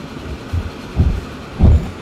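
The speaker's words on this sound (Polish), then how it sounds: "Robię tylko te przejazdy z pewnych powodów, żeby widzieć, jak się zachowują te pociągi." Trains running in the Transport Fever video game: three low, muffled thumps spaced about half a second apart, like wheels rolling over rail joints, moderately loud with no speech.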